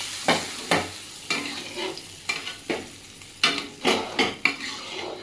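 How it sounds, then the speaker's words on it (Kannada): Roasted dry fruits stirred into pumpkin payasam in a pot with the stove switched off: a spoon scrapes and clanks against the pan in repeated bursts, loud and close, with no voices. "ಲಾಸ್ಟಲ್ಲಿ ಇವಾಗ ನಾವು ಹುರಿದಿಟ್ಕೊಂಡಿರೋಂಥ ಡ್ರೈ ಫ್ರೂಟ್ಸ್ನ ಇದಕ್ಕೆ ಆ್ಯಡ್ ಮಾಡ್ಕೊಳ್ಳೋಣ ಪಾಯಸಕ್ಕೆ."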